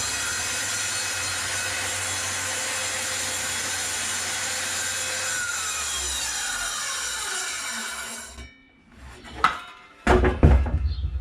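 A saw blade cuts wood along a guide while building a bed headboard, a loud, steady grinding whine for about eight seconds that winds down and stops, followed by a few clunks and knocks.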